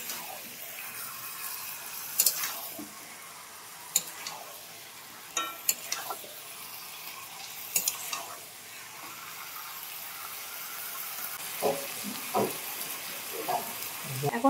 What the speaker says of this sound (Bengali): মাটনটা এখন ভালো করে কষছি, তেলের মধ্যে দিয়ে দিয়েছি